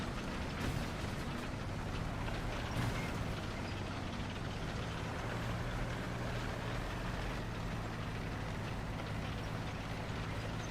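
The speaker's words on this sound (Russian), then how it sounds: "Из-за этих двигателей херово слышно." Boat engines in War Thunder, a steady rough low droning rumble with mechanical clatter, loud and unbroken throughout with no talk.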